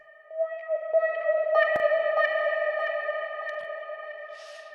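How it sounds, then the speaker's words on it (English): A techno synth sound built in Ableton, run through echo and reverb effects: sustained tonal synth notes with repeating echoes and a washy reverb tail that fades out, loud and alone with no voice. "And then you can also add some reverb."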